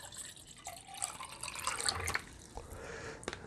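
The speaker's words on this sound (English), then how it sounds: "I have some cold tap water, so I'm gonna fill it to the max fill line." Cold tap water runs into a 450ml portable electric heating cup, a trickling, splashing pour with small drips and a few sharper splashes near the end, fairly close and without speech.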